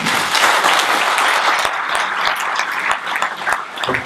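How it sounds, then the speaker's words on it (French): An audience at the Hilloula of Rabbi Haim Pinto in Marseille claps steadily and densely, a sustained wash of applause with a few sharp, distinct claps standing out. "vous allez applaudir à travers la famille"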